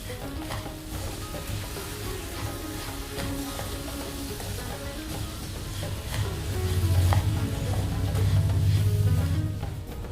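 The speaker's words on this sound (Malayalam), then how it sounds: "ഇത് നന്നായി ഇളക്കി കൊടുക്കും." Semiya (vermicelli) sweet with milk being stirred in a pan, a steady close scrape of the spoon over a soft sizzle that thickens and grows louder near the end, with no talking.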